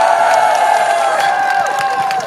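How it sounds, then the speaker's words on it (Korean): An audience at an outdoor civic festival concert in Incheon cheers and shouts loudly for a girl group. High-pitched voices ring out together in a bright, sustained wave for a couple of seconds. "박수 함께 함성 부탁드릴게요."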